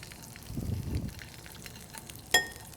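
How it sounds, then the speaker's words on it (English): Chicken leg and thigh laid skin side down in a hot pan, a quiet sizzle swelling briefly and then settling to a soft crackle, with a sharp clink near the end. "So this is going to be a sear for color in the pan"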